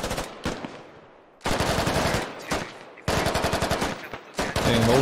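Bursts of automatic gunfire in the military video game Squad Ops, loud, close rapid volleys separated by short pauses, several separate strings of shots over a few seconds.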